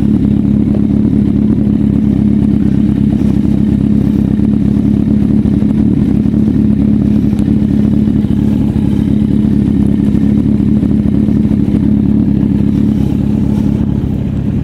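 A Kawasaki Z800 motorcycle engine runs loud and close at a steady idle, its deep rumble unbroken throughout, with no voices.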